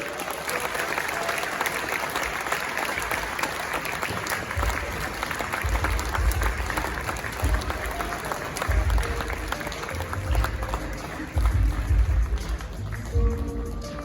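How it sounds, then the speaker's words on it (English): A crowd at the 29th GJA Media Awards in Ghana applauds a journalist winner from the Daily Graphic, with steady, dense clapping running throughout and low rumbling bumps underneath. "shall we do a resounding round of applause as we congratulate the winner, Severius Kalideri of the Daily Graphic"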